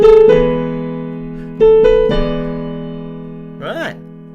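Piano plays a phrase from a song at full speed, a few struck chords ringing out and fading, followed by a short vocal sound at the end.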